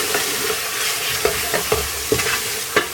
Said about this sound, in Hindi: और मसाले को 1 मिनट तक भूनेंगे